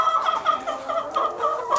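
Backyard coop hens cluck steadily and close by in short, repeated calls, with no talk over them.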